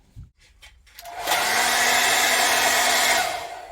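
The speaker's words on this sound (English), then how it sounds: "Hairdryer works." A hair dryer switches on and blows steadily with a loud, even whoosh and motor whine after a few soft clicks, at a campsite in Switzerland.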